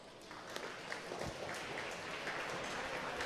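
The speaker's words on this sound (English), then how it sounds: "Big round of applause, please, for Hawk." Scattered audience applause at the F1 in Schools UK national final knock-out, moderate clapping with a light hum of crowd noise from a large hall.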